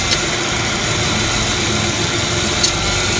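A Chrysler 300 engine idles with the AC compressor engaged, a loud, steady close-up drone and vibration with a mechanical hum holding unchanged throughout.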